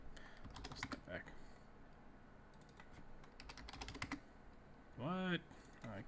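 Keystrokes rattle on a computer keyboard during work in 3D rendering software, coming in uneven bursts of rapid clicks with pauses, fairly quiet and close, and a voice briefly sounds near the end.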